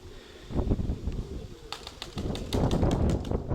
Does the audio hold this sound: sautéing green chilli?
no